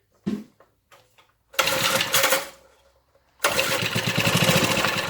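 Old Briggs and Stratton rotavator engine, over 40 years old, coughs with a few faint pops, then catches and runs loudly for about a second, cuts out, and roars back into a steady, close, rattling run.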